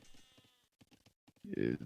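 A sheep bleats in a medieval strategy video game, with a brief loud bleat near the end that follows quieter game sounds and short bursts of talk.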